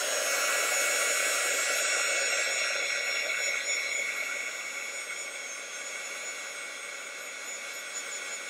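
A hair dryer blows steadily on a watercolor painting, a loud, continuous rushing hiss that carries on for the whole stretch and eases only slightly toward the end.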